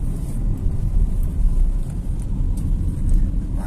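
Car engine straining uphill in third gear and losing power as the driver keeps accelerating, a steady low rumble mixed with wind noise and no talking.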